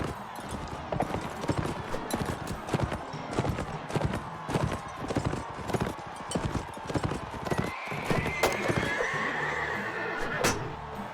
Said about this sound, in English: I got the horse.